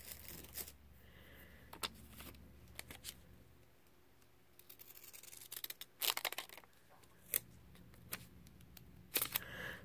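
Small stamp scissors snip through paper in short, sharp bursts, with a few quiet cuts early on and a louder cluster of close snips later, alone and close to the mic.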